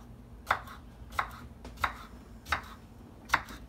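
A knife chops a jalapeno, seeds left in, into little pieces for a Polish zucchini lecho stew: five crisp, evenly spaced strikes on a board, close and clear, with no talking.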